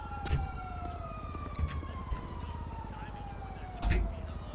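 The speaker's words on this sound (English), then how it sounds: "hear sirens." Police sirens wail in the video game GTA 5, steady gliding tones that sound fairly distant under a low engine rumble, with a few louder thuds along the way.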